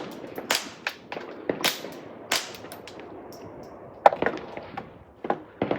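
Suppressed .22LR Ruger MK3 and MK4 pistol shots through B&T and SAW suppressors, a string of sharp cracks fired at uneven intervals, some in quick pairs, with faint room echo between them.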